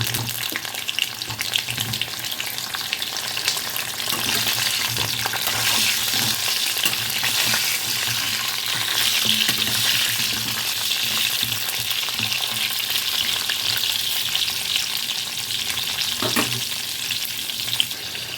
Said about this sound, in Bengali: আর এখন আমি এই পটলগুলো এর মধ্যে ভেজে নেব